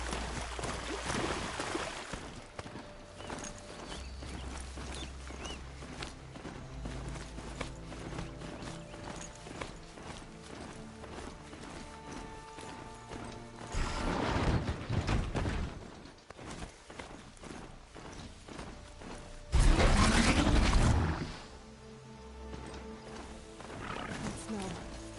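A horse mount gallops through the world of the video game Horizon Zero Dawn, its hoofbeats clopping along beneath game music and ambience, with two louder bursts of noise rising briefly near the middle and later on.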